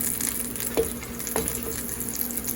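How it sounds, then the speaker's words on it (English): A Philly cheesesteak egg roll toasts in a hot pan with a steady, fairly loud frying hiss, broken by a couple of light clicks from the pan. "We're gonna toast this for about 15 or 20 seconds on this side."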